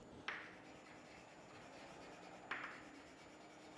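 A pen scratches out an accounting entry on paper, with two short, faint strokes spaced a couple of seconds apart over a quiet room tone.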